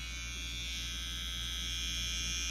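Weak, slow motor of a budget electric hair trimmer running continuously, a steady close buzz and hum with no talking.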